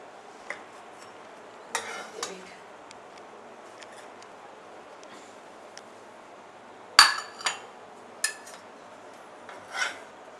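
Plates being taken out and handled in a home kitchen to serve pancakes, a few scattered clinks and scraping knocks against a quiet background, with one sharper clatter midway.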